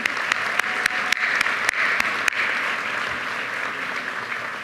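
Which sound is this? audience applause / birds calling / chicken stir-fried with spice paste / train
audience applause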